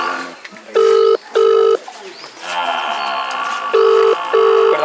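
A phone call to a village head rings on the line: two pairs of double ringback tones, loud and clear, separated by a stretch of muffled background noise.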